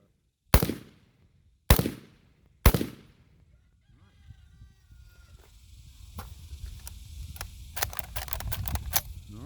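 Three loud, sharp gunshots from a Kel Tec RDB bullpup rifle fired in semi-auto, evenly spaced about a second apart, followed by quieter handling clatter and a few small clicks.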